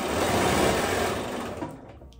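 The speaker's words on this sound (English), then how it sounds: "I sew over my pins." Sewing machine stitching quilt block pieces over pins, a fast continuous whirring buzz, close and loud, tapering off at the end with no talk.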